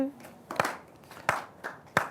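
An audience at a Holi poetry recital claps in brief bursts, each a short sharp volley that fades quickly, with spoken voices in between.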